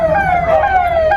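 A fire engine siren wails loud and close at a burning village, its pitch sliding in a continuous warble with faint vehicle rumble beneath.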